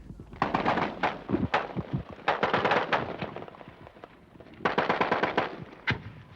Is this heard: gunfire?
yes